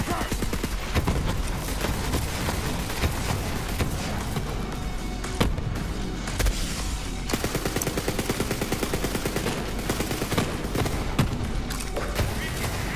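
An explosive-round gun fires in Borderlands 3, a steady stream of shots and small blasts hammering away loudly for the whole stretch, with rhythmic pops over a dense, noisy battle mix.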